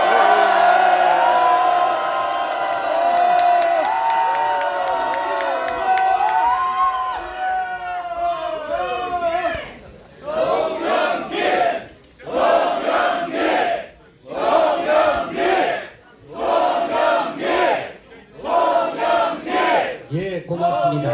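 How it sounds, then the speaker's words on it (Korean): A large crowd of party members at a founding convention roars with a long, loud cheer, which then breaks into rhythmic group chanting in repeated bursts with short pauses between them. "당원 여러분의 힘찬 함성과 함께 소나무당 그 거대한 창당대회를 시작하도록 하겠습니다"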